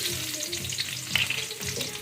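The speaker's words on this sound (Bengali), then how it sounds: "পেঁয়াজ আর রসুনটা ভাজতে দেবো" Onion and garlic frying in a pan for a Bengali mustard-greens dish, a steady close sizzle with soft stirring scrapes recurring about every half second, no voices.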